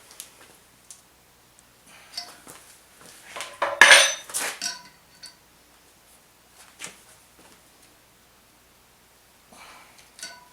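A short Mastercraft wrench clinks and rattles against metal while working on an LS engine, scattered sharp taps with one louder cluster of clanks in the middle, close and without talk.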